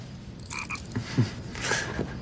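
A frog croaks in a few faint, low rasping pulses over soft background noise.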